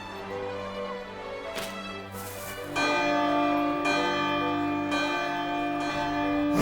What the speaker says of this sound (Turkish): Çanı çalsan iyi olur. Bu defa resmi olarak. Hadi birlikte çalalım.